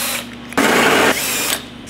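A drill bores through a fiberglass early Ford Bronco hood with metal backing, a close, loud steady whine that rises sharply for about half a second as the bit bites, then settles back.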